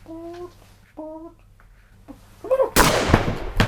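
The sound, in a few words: gunshots sound effect as officer kills everyone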